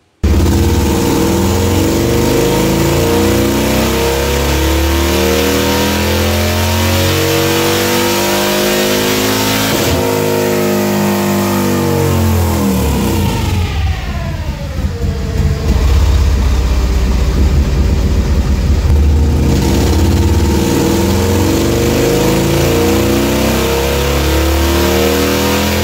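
Car engine revving hard during ECU tuning, sustained loud roar rising and falling through the revs, dipping briefly midway before climbing again, with no talk.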